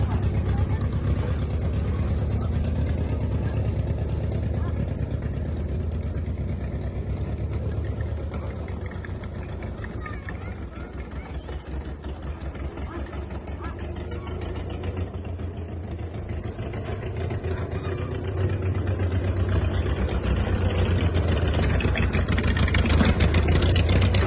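A wartime Willys military Jeep engine runs steadily at close range, a low continuous rumble that dips slightly midway and then swells again, with someone talking at times over it.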